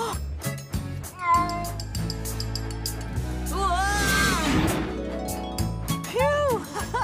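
Cartoon black cat meowing over background music in a children's animated train show, with a few rising and falling meows through the middle and near the end.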